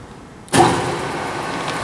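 The motor of a LeBlond sliding bed gap lathe starts abruptly with a loud surge, then settles into a steady running hum close by.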